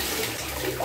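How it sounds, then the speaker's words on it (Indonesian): Water splashes and runs steadily as a goose down jacket is rinsed in clean water, a short continuous wash of sound at moderate loudness. "setelah dibilas dengan air bersih, kemudian kita angkat jaketnya dan kita biarin dulu airnya menetes ya"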